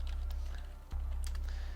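Faint keyboard clicks from a Rainbow Six Pro League PC esports match, a few scattered keystrokes over a steady low electrical hum.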